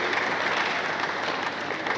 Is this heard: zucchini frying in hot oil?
no